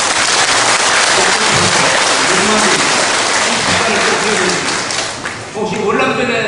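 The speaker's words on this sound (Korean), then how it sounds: "이분들을 위해서도 박수를 보내시기 바랍니다." Audience applause at a political lecture calling for the dissolution of the National Assembly, with loud, dense clapping filling the room for about five seconds before thinning out, and voices rising near the end.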